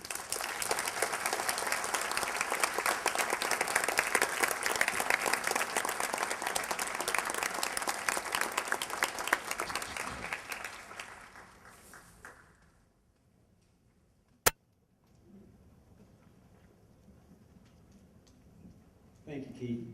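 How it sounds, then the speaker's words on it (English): An audience applauds at the end of a talk, sustained clapping that fades out after about twelve seconds, followed by near silence, a sharp click and faint room sounds. "Let's give Keith another round of applause."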